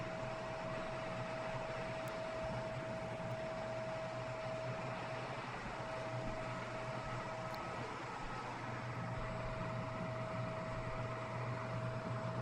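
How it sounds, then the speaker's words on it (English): A vacuum cleaner sucks up shattered glass from a damaged desktop computer, giving a steady, loud motor drone with a constant whine and a few faint clicks of debris. "is not very exciting to listen to a vacuum suck things up"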